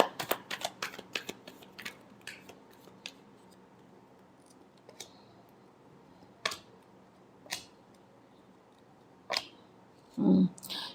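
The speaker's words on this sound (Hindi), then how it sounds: "Last shuffle." Tarot cards being shuffled in a quiet room, a quick burst of riffling snaps at first, then sparse single flicks and taps spaced out over several seconds.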